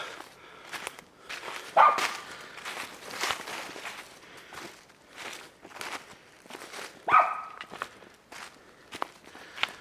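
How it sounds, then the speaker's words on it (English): In the woods, a dog chasing animals barks twice, sharp and loud at a distance, among steady crunching footsteps on the forest floor. "My dog is chasing animals as usual."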